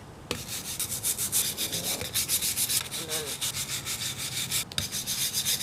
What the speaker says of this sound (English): So scrub your log.